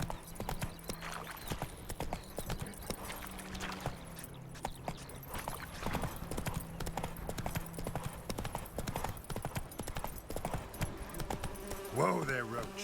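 Horse hooves clip-clop in a steady trotting rhythm in the Witcher III: Wild Hunt video game, mixed with game ambience, and a horse whinnies briefly near the end.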